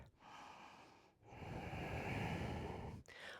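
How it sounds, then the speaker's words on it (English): Deep, slow breathing during a yoga bear pose in a vinyasa flow: two long, close breaths, one short and one longer and fuller, with a brief pause between and no talking. "Taking 2 more breaths here"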